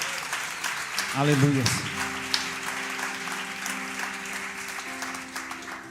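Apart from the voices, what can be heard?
congregation applauding in church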